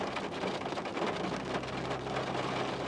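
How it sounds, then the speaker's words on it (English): Steady rain falling in a dense, even hiss, with a low rumble underneath, continuous and fairly close, and no voices. "You hear the rain?"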